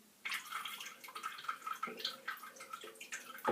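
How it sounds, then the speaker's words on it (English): A bathroom tap runs at a thin dribble during shaving brush preparation, giving a faint, steady trickle with small irregular splashes and drips. "Turn on the tap, just a dribble."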